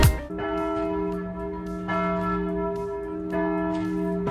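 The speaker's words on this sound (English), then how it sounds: "The bell's still ringing." A church bell tolls three times in a town square in Brasov, Romania, each heavy strike ringing on into the next. The rich, long-sustained tones fill the space with no one talking.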